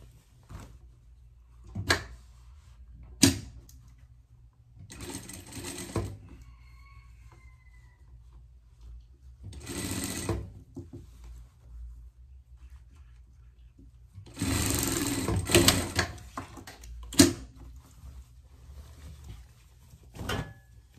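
A sewing machine stitches a small pet dress in several separate bursts of whirring, some short and some a few seconds long. Quiet handling knocks and clicks fill the pauses between runs.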